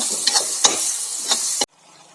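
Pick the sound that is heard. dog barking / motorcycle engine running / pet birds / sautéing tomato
sautéing tomato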